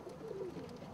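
Pet dove or pigeon cooing inside a nest box, a soft low murmuring coo close by, steady through the brief moment with no talking.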